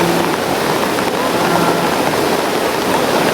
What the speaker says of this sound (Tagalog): Ay, grabe ka ulan.